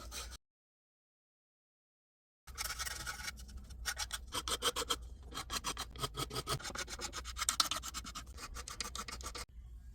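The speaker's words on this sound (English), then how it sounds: "I'm going to go through and file down any rough edges that I see. I'm just going to use a nail file" A nail file rasping along the rough edges of an old metal sign: close, quick back-and-forth scratching strokes that run steadily after a short silent gap at the start.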